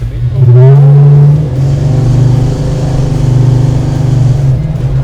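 A 1970 Dodge Charger muscle car engine running with a deep, steady rumble from close by, rising briefly in a rev near the start, with faint voices inside the car.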